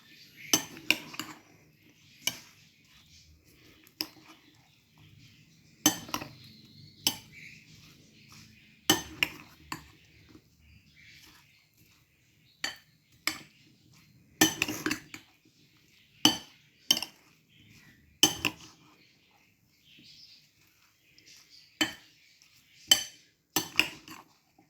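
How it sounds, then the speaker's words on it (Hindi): A spoon clinks and scrapes against a bowl while whipped cream fruit chaat with added sugar is mixed by hand, a series of sharp irregular taps with soft scraping between them, close and fairly quiet. "अब मैं इसको करने लगी हूँ मिक्स।"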